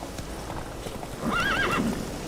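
Horse in The Witcher video game, with a soft clip-clop of hooves followed by a clear whinny near the end, fairly close and moderately loud, no talk over it.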